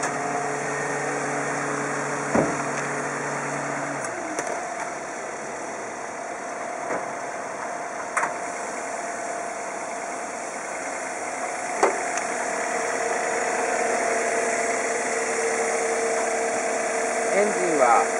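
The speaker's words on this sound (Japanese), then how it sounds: "エンジンをかけてみます。" A 2010 Toyota bB's 3SZ-VE inline-four DOHC engine turns over and settles into a steady idle hum, with a few faint clicks and knocks over the low continuous drone.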